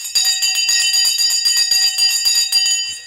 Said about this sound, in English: let's ring the Sensei bell